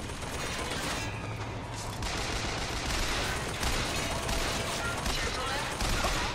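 Sustained turret gunfire in BioShock Infinite, a dense continuous rattle of rapid shots filling the whole stretch at moderate loudness, with a voice speaking over the barrage.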